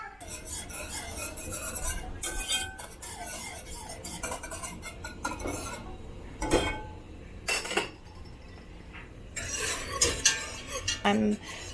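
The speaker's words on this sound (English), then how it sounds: "Now I'm going to stir that in, and we're going to bring them both to a rolling boil" Powdered pectin stirred into violet tea in a metal pot for jelly, a spoon clinking and scraping against the sides in irregular bursts, close and fairly loud, with no talk.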